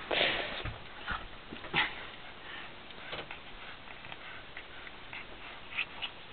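A Boston Terrier plays with blankets, giving faint, close snorts and sniffs in short irregular bursts over a quiet, rustling indoor background.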